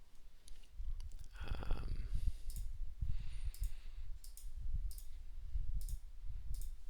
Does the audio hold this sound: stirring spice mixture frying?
no